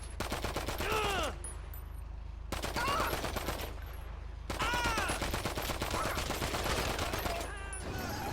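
Repeated gunfire in GTA Online, rapid shots in dense bursts with short pauses between volleys, loud and close, with brief in-game voices breaking in between.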